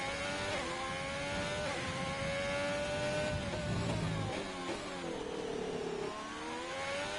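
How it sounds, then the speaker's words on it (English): A Haas Ferrari race car engine in a practice race for a racing league sim, revving high and shifting through gears, the pitch climbing and dropping repeatedly in a loud, continuous whine. "You gotta love that Haas Ferrari engine note."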